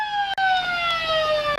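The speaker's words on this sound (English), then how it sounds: "And there is the siren for quarter time." A quarter-time siren sounds at a local Australian rules football match between North Geelong and Belmont Lions, one loud sustained horn-like tone with rich harmonics, slowly sagging in pitch over about a second and a half.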